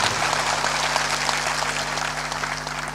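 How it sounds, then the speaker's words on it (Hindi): Audience clapping at a Hindi spiritual discourse, a continuous spread of hand claps at moderate level with a steady low hum running beneath it. "तालियां इतनी कमजोर क्यों बजाते हो?"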